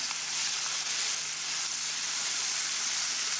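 Sausages fry over an outdoor camp dinner in the Australian outback near Uluru, a steady, fairly quiet hiss and sizzle running unbroken throughout, with no talk.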